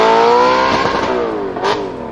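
A high-revving V8 engine screams loudly, its pitch climbing steadily, then dips briefly and rises again with a sharp burst near the end.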